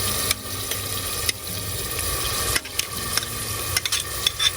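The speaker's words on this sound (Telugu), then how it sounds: "ఆనియన్ పేస్ట్ వేసుకుంటున్నా." Onion paste sizzles and crackles steadily in hot oil for a blue crab curry, a close, continuous frying hiss broken by a few scraping stirs of a spoon in the pan, with no talking.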